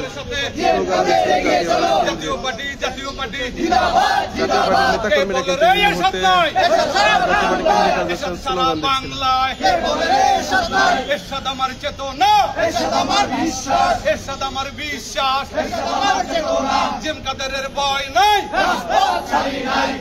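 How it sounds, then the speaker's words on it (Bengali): Jatiya Party activists chant slogans together outside the party's central office, a loud, continuous crowd of raised voices with rhythmic shouted bursts and constant babble throughout. "এই মুহূর্তে কিন্তু জাতীয় পার্টির নেতাকর্মীরা স্লোগান দিচ্ছিলেন জাতীয় পার্টির কেন্দ্রীয় কার্যালয়ের সামনে"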